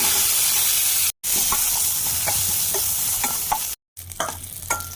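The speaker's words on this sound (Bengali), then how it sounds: "আলুগুলো ভেজে নেব।" Potato pieces fry in hot oil in a pan, a loud, steady sizzle broken twice by brief silences, with soft stirring clicks scattered throughout.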